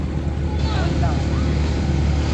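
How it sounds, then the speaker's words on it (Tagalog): A car engine drones steadily while the car is driven on a road during a driving lesson, a low continuous rumble with a faint whine over it and people talking throughout. "Yung ingay ng makina kasi na."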